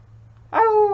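A single voiced howl rises abruptly and holds a steady, wavering pitch, a person imitating a wolf over a low constant hum.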